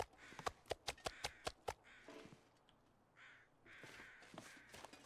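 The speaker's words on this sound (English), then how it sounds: "Crows." Crows in The Long Dark caw in a quick series of about seven sharp, fairly close calls, followed by fainter, rougher croaks over a quiet outdoor background, with no voices.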